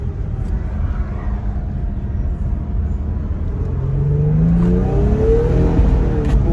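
Infiniti G37 with a manual gearbox accelerating from inside the cabin, a low engine rumble that rises in pitch, eases at a shift and climbs again, steady and moderately loud.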